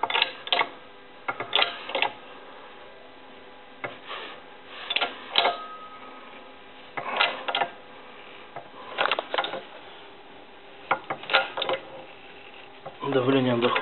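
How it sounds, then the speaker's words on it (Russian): Hand press compressing a firework crossette star, repeated bursts of mechanical creaking and ratcheting in irregular clusters, close and fairly loud, with quiet gaps between strokes. "кросс в прессе, начинаем давить"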